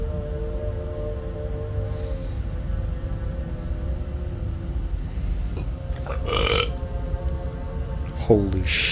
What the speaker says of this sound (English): I don't know if y'all heard me fucking burp like that